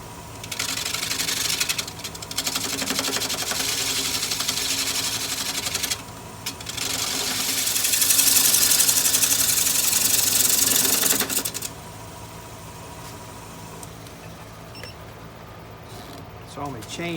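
A wood lathe runs at about 800 rpm while a gouge turns a piece. It gives a steady loud hum and whir, with cutting noise that rises in the middle and then drops to a quieter running drone. A person talks over it.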